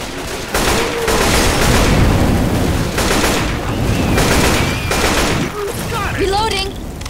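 Sustained gunfire in Left 4 Dead, loud continuous rattling of several weapons firing over several seconds with brief lulls, as players shout over the shooting.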